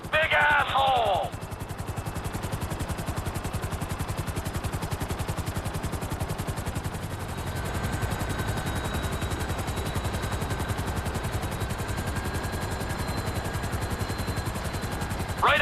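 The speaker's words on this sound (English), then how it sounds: "Just hold the chopper here." Helicopter hovering in the GTA 5 video game: a loud, steady rapid rotor chop with engine whine sustained throughout, with a brief voice near the start and again at the end.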